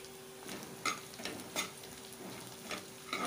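Puliyogare masala with turmeric and coriander is sautéed in a pan, a faint low sizzle punctuated by several soft spatula scrapes and taps at irregular intervals, with no talking.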